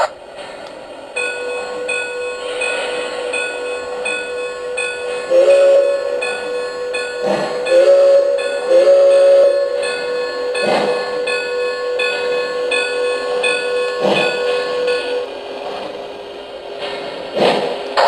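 A Lionel LionChief Plus 4-6-0 CNJ Camelback model train running steadily nearby with a continuous mechanical hum and rail clatter, broken by several short whistle toots.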